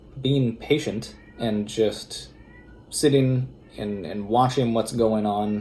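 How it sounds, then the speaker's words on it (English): A cat meows repeatedly in the background, a series of loud, drawn-out distressed yowls overlapping with a person talking throughout. "please excuse my cat freaking out in the background"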